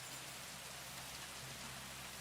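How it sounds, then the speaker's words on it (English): Steady rain falls in Kingdom Come: Deliverance 2, a soft, even patter of drops continuing without a break and with no voices. "I know it's peeing with rain"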